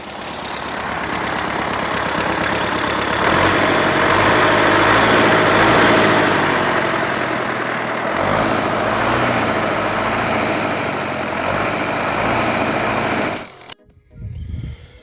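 A Belarus tractor engine idles in a steady, loud mechanical drone that holds for many seconds before abruptly cutting down near the end.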